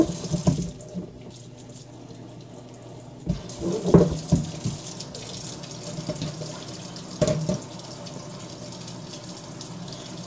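Water runs from a kitchen faucet to soak a tie-dye shirt, a steady splashing hiss in a sink that swells and dips as the fabric is moved under the stream, with a few clunks.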